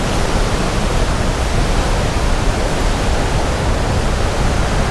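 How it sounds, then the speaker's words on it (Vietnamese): The Đắk G'lung waterfall roars in the Central Highlands forest, a loud, unbroken broadband rush of falling water heard close by and alone, with no voices. "chúng ta nghe thấy cái tiếng thác là đổ xuống rất là lớn"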